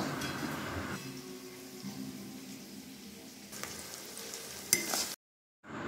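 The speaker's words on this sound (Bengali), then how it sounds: "তো মোটামুটি আমার পেঁয়াজটা ভাজা প্রায় হয়ে এসছে।" Onions sizzle as they fry in a pan in a village kitchen, a steady crackling hiss with occasional clinks of stirring, then the sound cuts off abruptly near the end.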